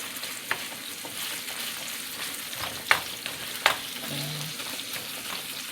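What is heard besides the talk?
meat frying in a pan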